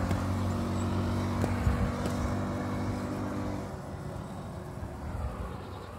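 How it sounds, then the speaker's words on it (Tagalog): A fast vehicle passes on a road in Binaliuan Menor, Tigbauan, with a steady engine rumble and road roar that swells and then fades as it moves away. No one speaks. "Ang bilis ng kanilang sasakyan."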